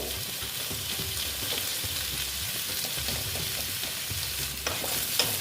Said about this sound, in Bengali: কুমড়োটাকে ভেজে নিচ্ছি